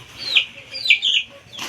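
Broiler chicks about two weeks old on a newly started poultry farm give a few short, high clucking peeps close by, spaced through a brief stretch.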